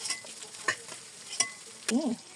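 Duck meat frying in its own rendered fat, stirred now and then, makes a soft, quiet sizzle with a few distinct scrapes and knocks of the spoon spaced through it.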